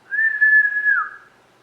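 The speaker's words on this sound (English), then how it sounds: "Can you whistle?" A person whistles a single sustained clear note that holds steady, then slides down slightly in pitch before fading out, close and alone.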